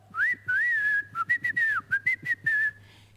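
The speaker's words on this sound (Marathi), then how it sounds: "त्याने शिट्टी गिळलेली आहे." In a comedy sketch, a swallowed whistle sounds as a bright, wavering whistle tone, first in long held notes and then in quick, choppy bursts, loud and close with no talk.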